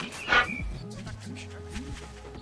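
Several dogs in a pack from a survival video game bark and whimper in a short close burst, then fall to softer intermittent yips beneath a steady low drone and talk.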